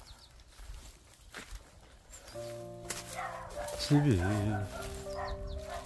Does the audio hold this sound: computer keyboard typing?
no